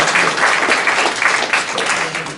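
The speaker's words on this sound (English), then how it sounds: "give yourselves a round of applause" An audience at a workplace meeting about a Michigan hospice applauds steadily, a dense, fairly loud wash of many hands clapping for the full length, gradually easing off toward the end.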